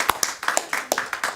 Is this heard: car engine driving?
no